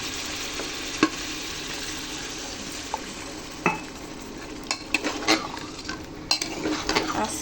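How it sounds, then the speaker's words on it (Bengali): Broiler chicken stir-fries in masala and added broth for chicken bhuna, sizzling steadily while a spoon scrapes and knocks against the pan in irregular bursts, close up with no talking. "এবার আমি ঝোল দিয়ে দেবো, যাতে মাংসটাকে ভালো করে কষিয়ে নেয়।"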